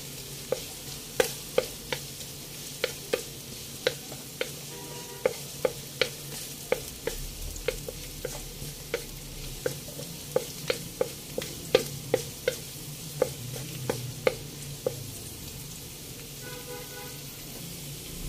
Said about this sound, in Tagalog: Mag-isa muna tayo ng sibuyas, bawang, tsaka luya. Yan. Gisahin muna natin guys.